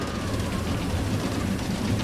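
Steady rain in the video game Planet Coaster 2 hisses as an even, dense wash with a low rumbling undertone, constant throughout and with no talk.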